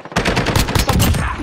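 Rapid automatic gunfire from Call of Duty Modern Warfare bursts in a loud, continuous string of close shots lasting about a second and a half.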